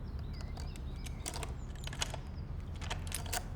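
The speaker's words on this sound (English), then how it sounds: "Let me just get the door unlocked." Keys jingle and click in the lock of a front door, a series of close metallic taps and rattles over a soft background hum, with no talking.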